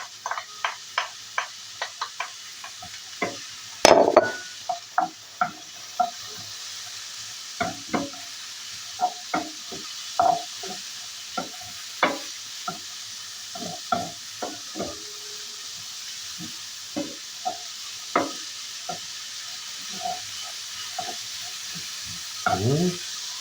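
Garlic frying in a pan, with a soft sizzle beneath a long series of sharp, close taps and scrapes of a utensil stirring at an uneven pace, plus one louder knock early on.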